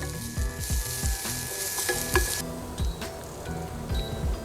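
Mama instant noodles stir-fried in a pan over moderate heat, with a steady close sizzle and repeated scraping strokes of the spatula.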